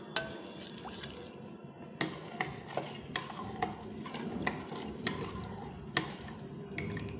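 A spoon stirs bael sherbet with lemon juice, giving a soft liquid swirl broken by about a dozen light clinks against the glass in an irregular rhythm, close and fairly quiet with no talking.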